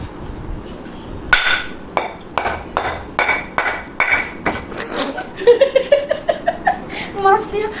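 A knife or cleaver chopping through a fish head, a series of sharp loud thwacks at an uneven pace, quickening into rapid blows later, with speech and laughter nearby.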